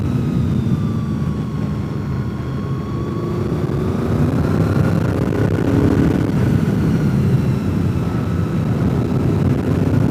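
A Honda VFR sport touring motorcycle engine drones steadily throughout while riding, a continuous loud hum with shifting pitch and heavy wind rush, no voices.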